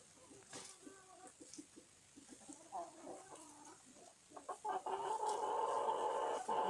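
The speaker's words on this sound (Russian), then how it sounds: "Красивый петушок, да?" Young roosters and hens cluck and call in an irregular, scattered chorus at close range, growing louder and busier toward the end, with a voice speaking now and then.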